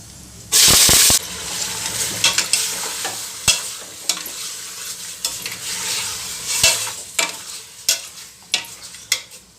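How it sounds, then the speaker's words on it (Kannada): Chicken hitting hot oil in a pressure cooker gives a loud, close burst of sizzle, then a steady crackling fry with repeated clacks and scrapes as the pieces are stirred, and no voices. "ಎಣ್ಣೆ ಕಾದಿದೆ ಇವಾಗ ಚಿಕನ್ ಸೇರಿಸ್ತೀನಿ"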